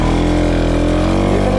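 Bajaj NS 200 motorcycle riding through deep sand pits, a loud close engine drone with a strong steady pulsing rhythm, straining continuously for a brief moment.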